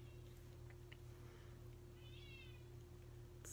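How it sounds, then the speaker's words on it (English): A faint cat meow at a door rises briefly above a steady low electrical hum, distant and muffled. "If you hear my cat, he's like meowing at the door."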